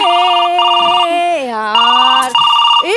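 A telephone ringtone plays during a comedy sketch set in a police station: a loud, melodic, repeating electronic tune with steady sustained tones that continues for about three seconds.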